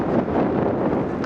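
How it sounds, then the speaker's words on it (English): Wind gusts buffet the microphone outdoors beside water, a brief, loud, steady low rumble with no talking. "And it's windy, wind is pushing me towards water."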